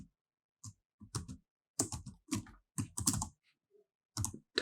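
Bursts of computer keyboard typing, clustered quick keystrokes with brief pauses between, close and fairly quiet while code is renamed in an editor.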